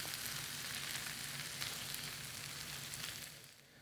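Sweet potatoes caramelizing in a hot pan give off a steady, close, dense sizzle with no voices, easing off slightly toward the end.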